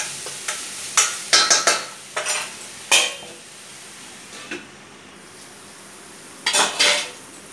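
A spoon stirs a kurma spice mixture with turmeric and salt in a pot, giving scattered, sharp scraping and clinking strokes in short bursts with quiet gaps between them and no talking.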